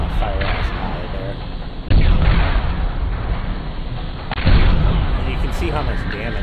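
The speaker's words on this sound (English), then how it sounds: "When it goes down, you want to fire at his eye there." Heavy weapon fire at a boss's eye in the Borderlands video game comes as a dense, loud, continuous barrage with two sharper booming surges, saturating the mix and masking any talk.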